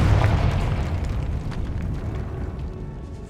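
A Confringo spell explosion in the video game Hogwarts Legacy gives a loud, deep boom that rumbles on for several seconds, with dense low-end roar slowly fading.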